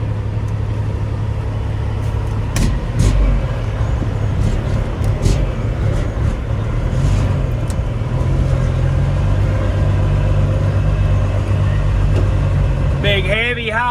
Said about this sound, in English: Big heavy haul Peterbilt.